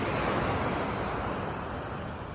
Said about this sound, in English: just waking up to the waves and the surfers